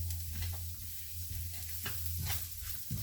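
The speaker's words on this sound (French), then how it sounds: "on commence à bien remuer tous nos oignons, voilà, histoire qu'ils s'imprègnent bien" Onions coated in spices sizzle steadily in a pan while a utensil stirs them, with scraping strokes scattered through the near, continuous frying.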